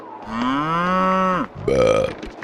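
A cow moos once in a long, strong, tonal bellow, then lets out a second shorter, rougher moo right after it, both close and clear with no talk.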